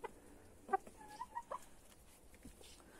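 Hens in a backyard coop give a few soft, scattered clucks, faint and somewhat distant, with short pauses between calls and no talking.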